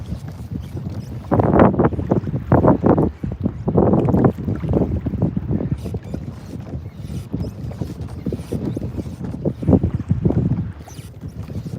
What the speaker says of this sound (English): this wind is not making it easy